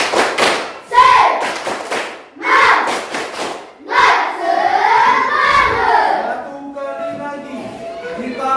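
A class chants together in Indonesian in bursts, punctuated by loud rhythmic claps, close and energetic.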